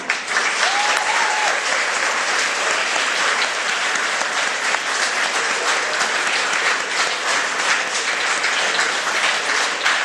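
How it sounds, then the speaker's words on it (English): Sixth graders at a school graduation give their parents a big round of applause, dense sustained clapping from a large crowd lasting throughout, fairly distant and even. "let's recognize our parents by giving them a big round of applause"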